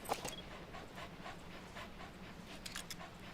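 A dog companion in the video game Metal Gear Solid 5 pants in quick, steady breaths with a few soft whimpers, close and alone.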